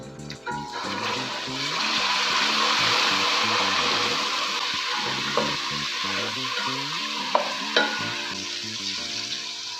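Ground garlic, ginger and green chillies fry with softened onions in a pot, giving a loud, continuous sizzle with stirring and scraping throughout, plus a few sharp clinks near the end, and no talking.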